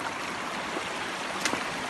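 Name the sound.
stream water flowing down past the walker's house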